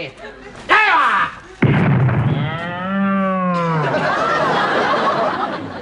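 A cow lets out a long, loud moo with a wavering pitch, heard nearby after a couple of sharp bangs and a brief shout.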